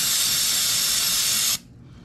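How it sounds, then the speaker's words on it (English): High-pressure water spray hissing steadily and loudly while cleaning dirt off the rear differential area of a Polaris Sportsman 570 ATV, cutting off abruptly near the end. "we're going to spray this whole area right here"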